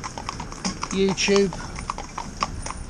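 Horse hooves clip-clopping at a steady walking rhythm while someone talks over them, the hoof beats fairly close and clear beneath the voice.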